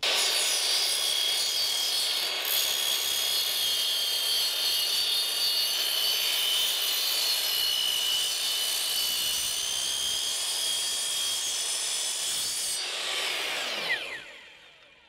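Continuous saw cutting through metal roof profiles clamped together with a woodworking clamp, a loud steady grinding whine lasting about thirteen seconds, then spinning down and stopping near the end; no talking.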